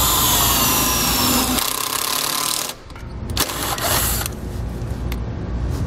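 A power driver spins a self-tapping screw with a 5/16" bit into vehicle body metal, a loud continuous whirring grind that stops abruptly, followed by a few short bursts of driving and clicks.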